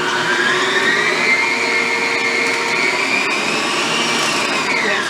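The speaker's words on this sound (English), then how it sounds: "So I'm just going to mix up my butter real quick to make sure it's" An electric hand mixer creams butter for icebox cookies with a loud, continuous high whine whose pitch slowly drifts up and down as the beaters work.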